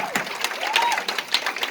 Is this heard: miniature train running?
no